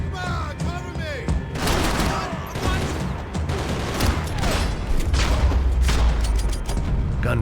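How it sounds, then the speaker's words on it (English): Gunfire from the video game Max Payne 3, with bursts of shots, booms and clanking mechanical noise in a busy, loud firefight. "Gunfire over Hoboken."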